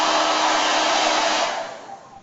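A handheld hair dryer drawing about 1150 watts blows with a loud, steady rushing whir that holds even, then starts to wind down and fade over the last stretch.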